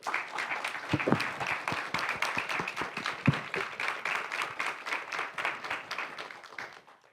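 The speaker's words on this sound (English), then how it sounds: "Let's give them a round of applause." Audience applause at the Arts Forward Summit 2025, an arts education event in Fort Worth: a steady wash of many hands clapping with sharp individual claps, sustained throughout and tapering off near the end.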